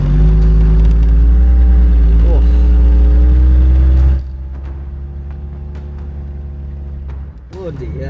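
Vehicle engine revving hard while loading a winch to pull a deeply buried vehicle from an abandoned track in a storm, a loud sustained rev that drops abruptly to a low idle midway, with a brief spoken exclamation.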